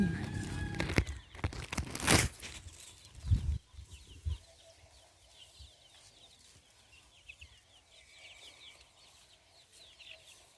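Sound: jungle fowl calling

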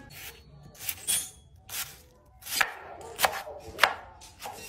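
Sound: knife chopping onion into cubes

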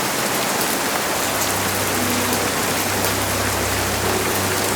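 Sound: rain with thunder in a town, story sound effect

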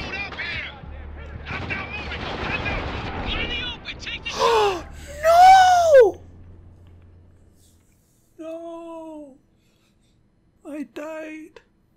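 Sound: gunfire in video game Spec Ops: The Line

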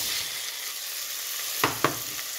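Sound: onions frying and being stirred in a pan

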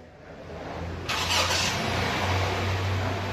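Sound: Honda Jazz car engine starting

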